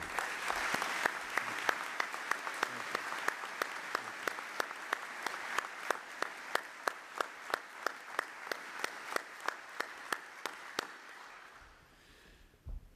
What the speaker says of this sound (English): I just want to offer you a round of applause from all of us at EUCOM for what you do.